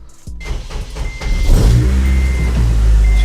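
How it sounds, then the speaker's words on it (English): An Acura RSX cranks briefly, catches and starts, then settles into a loud, steady idle close by, with a faint high whine in the background. "let's make sure this car turns on"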